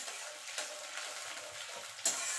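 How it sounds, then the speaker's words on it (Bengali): Fried mung dal sautéed in a pan, a faint, airy sizzle with a couple of soft stirring taps, quiet and alone. "এবার এটাকে একটুখানি কষিয়ে নেব।"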